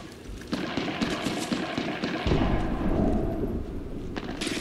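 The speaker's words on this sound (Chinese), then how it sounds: "你听枪声，看他们打哪里？" Gunfire in the battle royale game Apex Legends sounds as rapid rattling bursts and booming shots, mid-distance and fairly loud, layered over a rumbling in-game background with no speech.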